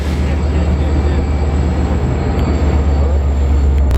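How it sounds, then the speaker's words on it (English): M7 commuter train arriving at a station, a loud steady low rumble and roar with a faint high whine, continuous and close throughout. "That's going to be our next train, so we're going to have the M7"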